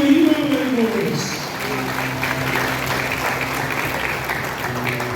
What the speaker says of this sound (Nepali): हामी परमेश्वरलाई महिमा गरेर ताली मार्नेछ